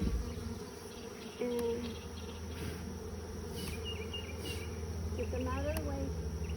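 A dense, steady buzz of honeybees hums around an opened Flow hive as frames are lifted and moved, with a voice talking over the constant drone and occasional louder bee passes.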